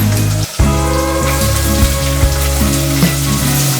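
Finely chopped onion fries in a hot pan for a spicy crab curry, a loud, dense sizzle crackling close up, with a few clattering stirs and a brief dip near the start.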